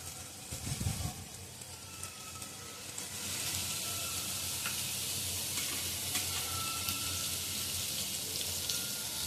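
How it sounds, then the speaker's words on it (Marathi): Masala sizzling and frying in a generous amount of hot oil for stuffed eggplant (bharleli vangi), a steady close crackle that grows louder and denser after the first few seconds, with a faint stir early on. "याच्यामध्ये आपण मसाला जो आहे परतून घेणं, चांगलं तळून घ्यायचं."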